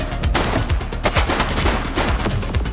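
Rapid gunfire in the police video game The Precinct, a dense burst of loud, overlapping shots and cracks in quick succession, close and unbroken with no talk.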